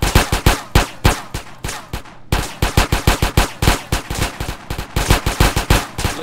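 Rapid gunfire in GTA San Andreas, loud close bursts of sharp shots in quick uneven volleys with a brief pause midway, no talking.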